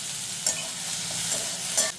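Steady hiss and crackle of onions frying in hot oil, with a couple of soft scraping stirs, close by and continuous.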